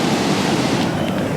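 Ocean waves breaking at a fishing pier, a loud, continuous surf wash with wind rushing across the microphone.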